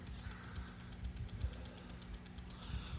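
A plastic unbranded half-inch dual nozzle spoon drive impact sprinkler running off a hose ticks rapidly in a steady ratcheting rhythm on its reverse stroke, close and continuous, with no talk.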